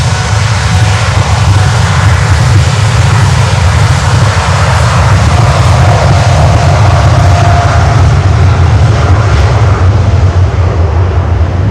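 Jet airliner engines roar loud and close at Miami airport, a steady broadband rush with deep low rumble filling the whole stretch without pause, likely a 767 with CF6 engines passing near during busy holiday traffic.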